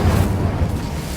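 A fiery Incendio spell impact in the Hogwarts Legacy video game lands as a deep, rumbling burst, loud and close, fading over about a second with no voices over it.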